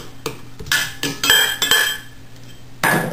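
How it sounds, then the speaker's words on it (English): Butter is creamed with white and brown sugar in a bowl for oatmeal raisin cookie dough, producing a series of close clinks, knocks and scraping strokes of the utensil against the bowl, irregular and moderately loud. "Now I'm going to cream in 3/4 cup of sugar, white sugar, and 1/2 cup of brown sugar"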